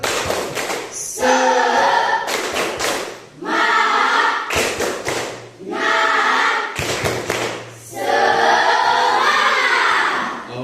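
A classroom of students performs a rhythmic group spirit clap, bursts of synchronized clapping alternating with loud chanted shouts in repeated phrases, energetic and close.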